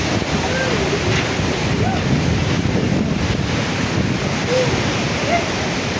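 Constant roar of sea waves and surf during a super typhoon, with heavy wind buffeting the microphone, loud and unbroken throughout.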